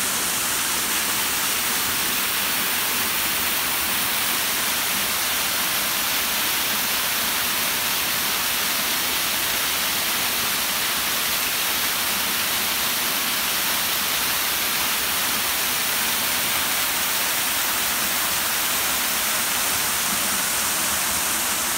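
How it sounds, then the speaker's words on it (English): Steady, dense roar of a waterfall in Gleniffer Braes Country Park, loud and close, constant broadband rush without pauses or voices. "And you can actually stand right in front of the waterfall."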